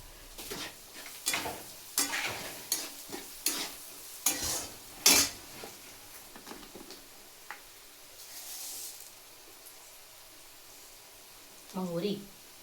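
Cumin seeds sizzle in hot oil in a pan as a spoon scrapes and stirs them in a series of sharp strokes, the sizzling continuing faintly afterward while a person speaks.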